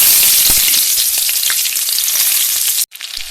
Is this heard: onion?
yes